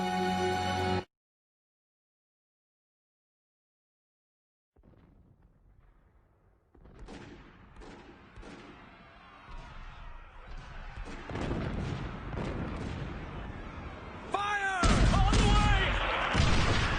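Gunfire and crashing blasts in a battle scene from the video game Hakuoki, opening with a short burst, then quiet before sharp repeated shots build into dense, loud volleys.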